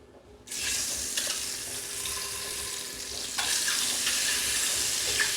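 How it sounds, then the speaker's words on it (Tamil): Eggs dropped into hot oil in a pan for Andhra-style egg gravy burst into a loud, steady sizzle that swells again partway through, with light scraping now and then. "இது வந்து ஒரு 2 நிமிஷம் வந்து நல்லா ஃப்ரை ஆகணும்"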